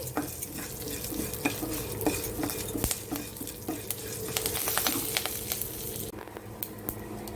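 A tempering of urad dal and chana dal frying in a pan while a spoon stirs it, giving a continuous sizzle with repeated scraping and clinking strokes and no voices.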